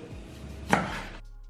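A knife slices a lime into wedges for tacos, with one crisp cut landing mid-clip against a quiet kitchen background.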